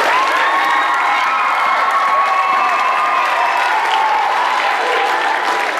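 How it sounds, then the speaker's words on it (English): Loud, sustained applause and cheering fill a school winter band concert hall as the audience welcomes an eighth-grade announcer, many hands and raised young voices blending into one steady roar. "so if you'll give her a round of applause"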